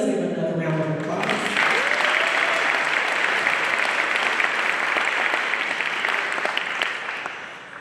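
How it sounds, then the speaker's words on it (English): Audience applause fills the room at a 2023 MLK commemorative breakfast, rising after a brief spoken line and holding as steady, dense clapping from a large crowd. "Let's give another round of applause."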